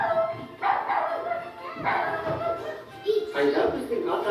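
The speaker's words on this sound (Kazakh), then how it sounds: "Керемет, ит." A dog barks in a few short bursts, mixed with nearby talking, in a children's literature lesson.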